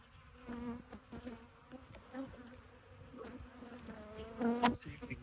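Honey bees buzz faintly around an opened, long-abandoned hive. Scattered individual buzzes drift close and away, and one louder pass comes near the end.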